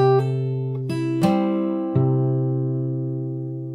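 A fingerstyle acoustic guitar plays a slow passage from a song, a few plucked notes and chords ringing out and decaying with long sustain, alone and close.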